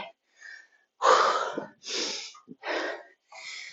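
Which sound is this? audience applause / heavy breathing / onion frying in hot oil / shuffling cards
heavy breathing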